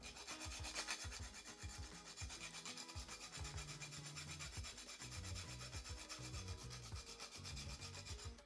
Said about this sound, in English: So I'm just going to grate the nutmeg.